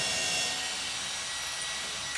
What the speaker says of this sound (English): we pre-drill a small hole in the spot where the floor is squeaking